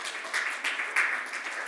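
A church congregation gives a short burst of applause. The clapping sounds moderately distant and spread across the room, with no voices.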